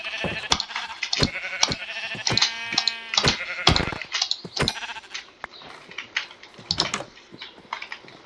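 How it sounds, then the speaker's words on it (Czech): Sheep bleat in the Minecraft video game, a few wavering calls mixed with rapid keyboard and mouse clicking at close range. "Ovce."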